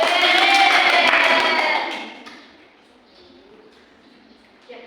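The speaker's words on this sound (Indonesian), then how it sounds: "tepuk tangan" A third-grade class clapping together during a micro-teaching lesson, a loud burst of hands that fades out after about two seconds, leaving quiet room tone and a faint voice afterward.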